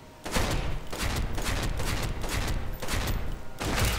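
Sustained automatic fire from an HK147 in the video game Special Force 2 rattles continuously in loud rapid bursts, with short breaks between volleys.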